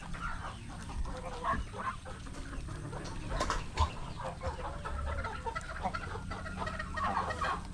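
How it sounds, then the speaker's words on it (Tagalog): A flock of geese honks and clucks continuously nearby, overlapping calls rising and falling in a busy, noisy chorus. "Ating mga gansa humihingi ng feeds."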